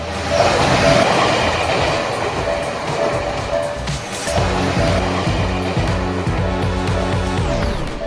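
A train rolls past a railroad crossing, a loud continuous rumble with rhythmic clickety-clack of wheels over rail joints and a metallic squeal, heard close up with no talking.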